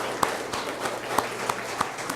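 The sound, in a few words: round of applause from a standing audience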